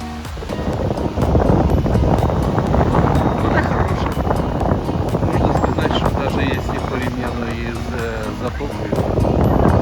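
Strong wind on a Spanish beach buffets the microphone in a continuous roaring gust, with surf-like rushing beneath and a voice speaking faintly through it.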